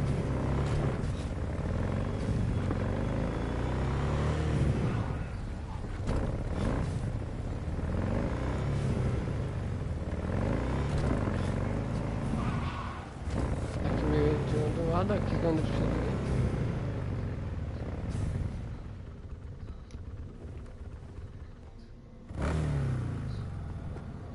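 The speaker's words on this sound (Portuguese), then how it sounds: "Meu Deus, essa moto, nossa moto." Motorcycle engine in Cyberpunk 2077, a steady rumbling drone with rising revs that runs almost unbroken, briefly dipping near the end before surging again, under occasional game sounds.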